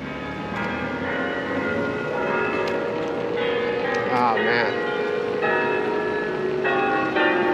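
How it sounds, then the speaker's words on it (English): Church bells ringing along a street on a bike path from Irvine to Orange through downtown Santa Ana, a sustained series of clear metallic peals heard from a moderate distance, with someone briefly speaking over them. "Oh yeah, we have some bells."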